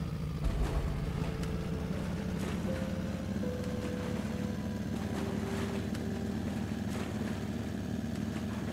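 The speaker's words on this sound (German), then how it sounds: "Dann schmeiß mal den Motor an." Raft motor in the survival game Sunkenland starting and running as a steady, continuous engine drone with low rumble and some faint tonal whine, moderately loud with no talk over it.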